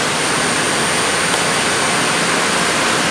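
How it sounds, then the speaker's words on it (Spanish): A hospital's water pump runs as a loud, steady broadband roar, close by and unbroken throughout. "Vamos a prender la bomba, automáticamente va a prender una por una."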